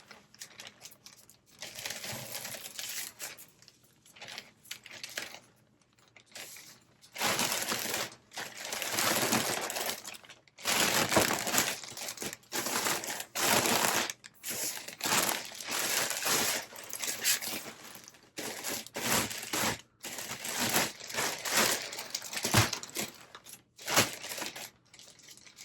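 A plastic poly mailer being handled while packing an eBay order, bursts of loud crinkling and rustling that come and go in irregular stretches with short quiet gaps, close and alone.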